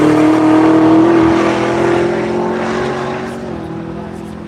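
A car in the Tire Rack One Lap of America event passing on the track at the end of a lap, a loud, steady engine drone with a sustained tone that slowly fades as it moves away.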